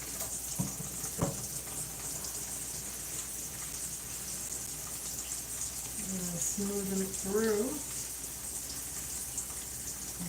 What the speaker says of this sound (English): So I got to get some water on here.